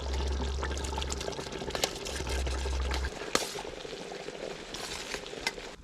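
Rice is tipped into a pot of boiling water while making chicken biryani, over a steady, close wash of bubbling and splashing. A low hum under the boil stops partway through, and there is no talking.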